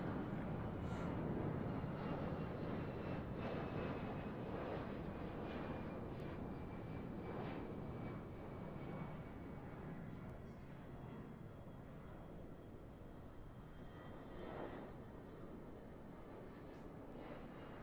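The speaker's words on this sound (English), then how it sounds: "You can hear the planes." Airplanes drone overhead in the City of Titans pre-alpha video game, a broad steady engine roar with a faint sweeping tone that slowly fades, distant and fairly quiet, with no talk.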